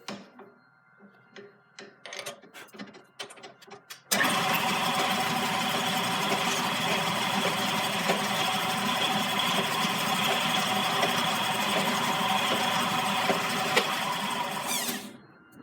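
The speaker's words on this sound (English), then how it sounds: "go with the regular drill bit" A regular drill bit bores into steel on a lathe after center drilling, for fitting a chef knife. Scattered clicks and taps lead into a loud, steady machine whir that runs without a break before stopping at the end.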